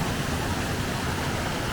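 A mountain waterfall cascade in the Pyrenees roars as a dense, steady wash of rushing water, loud and close, unchanging over its short length.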